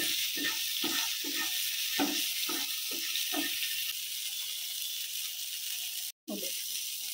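Chopped tomato and panch phoron hitting the hot oil left from frying hilsa fish, a bright continuous sizzle with a series of soft stirring knocks early on and a brief cut to silence near the end.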